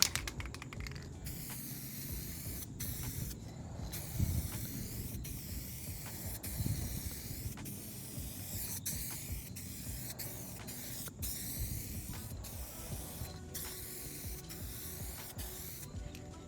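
A rattle can sprays metallic midnight purple paint onto a car panel, a continuous close hiss with short pauses between passes and a few faint clicks.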